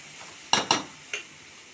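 Dal frying in a pan over a faint sizzle, stirred with a utensil that gives three sharp scrapes and clinks against the pan, two quick ones and then a softer third.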